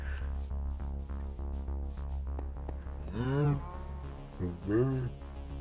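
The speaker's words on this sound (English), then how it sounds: "If I was a cow, I'd probably say moo as well" Cows moo in a video game, two drawn-out, loud close lowing calls with a steady low hum of game sound underneath.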